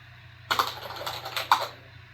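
Someone types on a USB keyboard plugged into a Samsung TV, making a quick run of close, crisp plastic key clicks with two louder keystrokes, then quiet.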